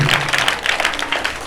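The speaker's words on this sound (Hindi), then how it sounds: "जोरदार तालियां" Audience applause at an Islamic quiz competition, a loud burst of many hands clapping together, brief and sustained.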